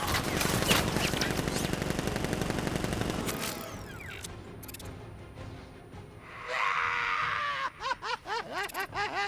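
Dense automatic gunfire rattles loudly for several seconds in a Batman Arkham video game. It fades into scattered game sounds, shrill squeals and a rising series of rhythmic whooshing bursts.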